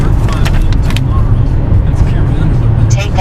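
A car drives along a road toward Canyonlands and Arches National Parks, with a close, steady, loud rumble of engine and tires that never lets up.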